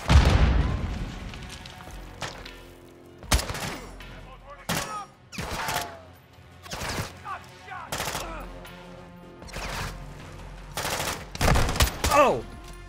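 Gunfire and a frag grenade blast in the video game Call of Duty: Modern Warfare II, with repeated loud bursts of shots and booms in irregular clusters and a voice speaking between them.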